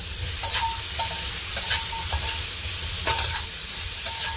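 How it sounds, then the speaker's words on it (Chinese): Pork soft bone stir-fried with raw sugar over low heat for a ginger braise, with a steady close sizzle and regular scraping stirs of a spatula against the pan, repeating about every half second, with no voices. "咁啊炒，细火啦，落咗糖记住细火"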